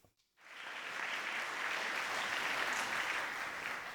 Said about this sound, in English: Please give a round of applause for Marie-Louise Høstbo.